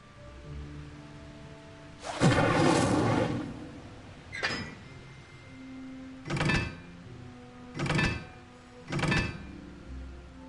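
Bursts of a fire spell cast in the Hogwarts Legacy video game, one long whooshing blast followed by several shorter sharp bursts at steady intervals, loud and close with no talk over them.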